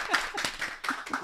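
A live audience claps briefly in a short burst, with quick overlapping hand claps that are moderately loud and fade after about a second.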